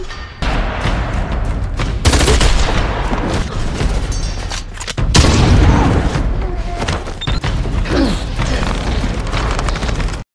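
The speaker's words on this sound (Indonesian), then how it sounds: "Seorang petugas keamanan mencoba menembak seorang perampok namun tembakannya tidak berhasil melumpuhkan lawan." Gunshots in a robbery shootout: loud, dense bursts of gunfire with booming impacts and chaotic crackling, close and continuous over roughly ten seconds.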